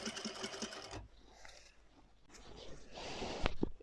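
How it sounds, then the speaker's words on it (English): A sewing machine stitching a little girl's summer dress, close and clear, running in two short bursts with a brief pause between them. "So we'll start sewing."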